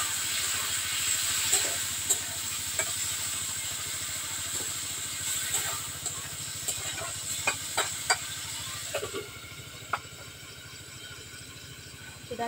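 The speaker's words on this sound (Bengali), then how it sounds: "জল দিব।" Water poured into a hot cooking pot after bay leaves, giving a steady hiss and sizzle with small clinks and taps over the top, moderately loud and continuous.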